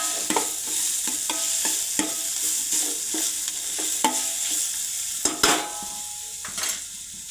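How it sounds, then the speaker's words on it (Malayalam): Chicken curry is stirred in a pan with tomato, producing a close, moderately loud sizzle broken by repeated scraping strokes and clinks of a spoon against the metal. "നമുക്ക് ഒന്നുകൂടെ ഇളക്കി കൊടുക്കാം"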